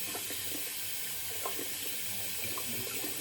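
Tap water runs steadily through a wet shaving brush with a Tuvan Manchurian badger knot, a continuous broadband splashing hiss close by, with no talking.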